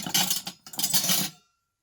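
Ceramic dishes made in Portugal clink and knock together in two short bursts of handling, close and fairly quiet, then fall silent.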